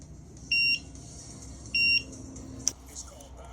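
Fire alarm system beeping, two loud steady electronic tones of about a quarter second each, spaced roughly a second apart, followed by a brief sharp click, in a quiet room.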